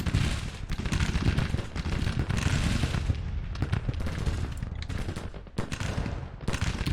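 Musket gunfire in Grand Tactician Civil War, dense ragged volleys of shots crackling and popping continuously with occasional heavier booms, loud and sustained without any talking.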